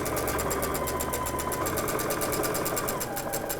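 A sewing machine runs a quilt seam in a fast, even stream of stitches, steady and close-up for the whole stretch, with no talking.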